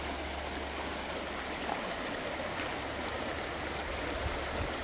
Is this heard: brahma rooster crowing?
no